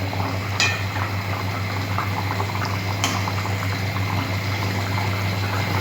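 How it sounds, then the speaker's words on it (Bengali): Fish curry broth with potatoes and carrots bubbles steadily in an uncovered pot, a continuous close simmering burble with a couple of faint clinks, no voices. "এবার ঢাকাটা খুলে কতদূর ঝোলটা ফুটলো"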